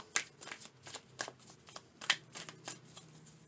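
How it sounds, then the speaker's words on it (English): A deck of tarot clarity cards is shuffled up close, a quiet series of crisp riffling flicks and soft slaps in irregular bursts over about three seconds. "Let's get some clarity cards on this"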